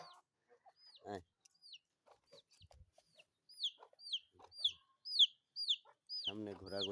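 A rooster with hen-like colouring clucks in short, repeated calls amid sparse quiet farmyard sounds, the clucks growing busier and closer toward the end, joined by a brief louder squawk.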